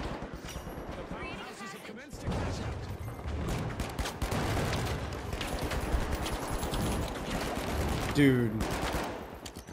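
Rapid automatic AK rifle bursts fire in The Finals, with sustained chattering shots and impacts, close and loud, while a voice speaks over the action.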